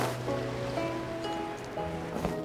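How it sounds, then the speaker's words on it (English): Ocean waves in the Genshin Impact video game, a steady wash of surf with a wind-like hiss, heard alongside soft sustained musical tones. "The waves are as calm as always."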